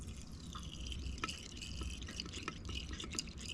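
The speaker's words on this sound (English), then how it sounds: "the water is dropping down, so it's going down into the hot water tank." Water drains down from the top reservoir of a watercooler into its hot water tank, making faint, soft trickling and dripping sounds that carry on throughout.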